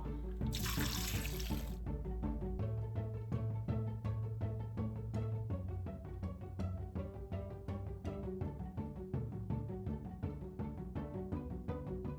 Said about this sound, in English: we're gonna cover all of this with water